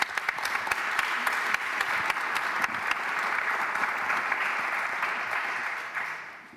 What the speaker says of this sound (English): let's give a round of applause to Hungary